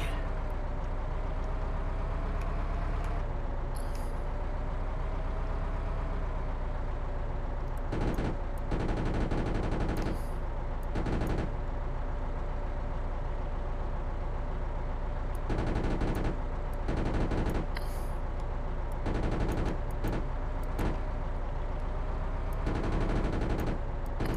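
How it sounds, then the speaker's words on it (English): Sustained machine gun fire from early tanks such as the A7V in the World War I-era game Arms Trade Tycoon, a dense continuous rattle under a steady engine rumble, with louder bursts recurring through the battle. "bring the machine guns to bear on all these targets"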